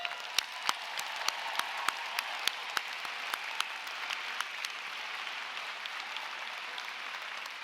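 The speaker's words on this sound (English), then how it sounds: "What about one more round of applause for every single graduate?" Large crowd applauds graduates at a university commencement ceremony, a steady distant roar of clapping with a few sharp, closer claps standing out early on.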